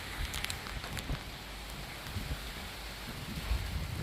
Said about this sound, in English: This is what the skies are looking like right now, and the rain is coming down.